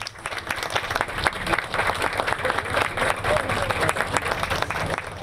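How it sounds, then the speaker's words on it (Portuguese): A group of students lining a street applauds as a funeral procession passes, dense, steady clapping from a crowd close by, continuing without a break, with crowd murmur mixed in. "Eles aplaudiram."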